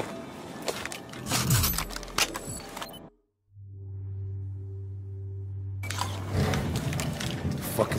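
Elevator mechanism in Battlefield 4's Shanghai campaign level, a brief silence followed by a low steady mechanical hum with faint tonal whirring, bracketed by busier clanking and ambient noise before and after.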